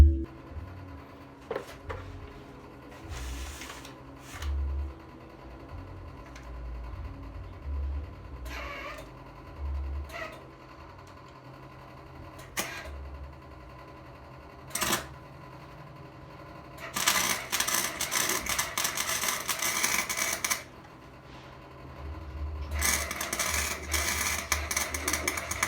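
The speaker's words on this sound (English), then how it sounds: "just a quick tack weld on each one of my seams to make it stationary" Tack welds go onto the steel seams of a speaker mount for a 2011 Jeep Wrangler JKU, with sparse clicks and taps followed by two loud, sustained crackling welding bursts.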